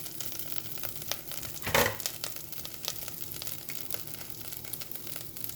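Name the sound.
cumin seeds (shahjeera) sizzling in hot oil in a pan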